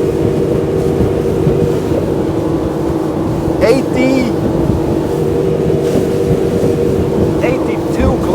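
2023 Boston Whaler 250 Dauntless motorboat running fast at high RPM, a loud steady outboard drone mixed with wind buffeting and water rush, with a few brief squeaks.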